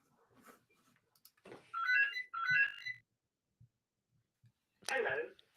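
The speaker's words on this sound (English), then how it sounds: "Go to answer phone." A phone rings in two short electronic trilling bursts, followed by a pause with faint ticks and then a brief voice, all quiet and close.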